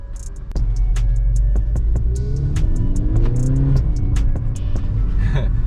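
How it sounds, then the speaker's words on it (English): A stock Volkswagen Golf 6 GTI engine revs repeatedly in sharp bursts, loud and close, with rising and falling pitch sweeps over a deep idle rumble. "Letting my new friends enjoy the sound of a stock GTI a little bit."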